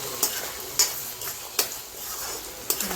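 Dried fish frying in a pan with turmeric and salt, a steady soft sizzle broken by four sharp scrapes of a spatula stirring against the pan.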